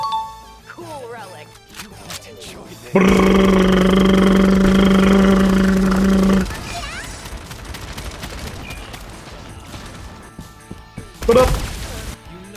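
A Chinese-made submachine gun fires in FragPunk, a loud, sustained burst of rapid automatic fire lasting about three seconds, set among quieter game clatter, voices and a later short sharp crash.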